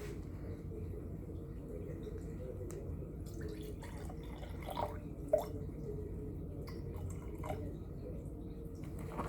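Faint trickling and dripping of distilled water poured into a container for soap making, quiet and close, against a soft background hum.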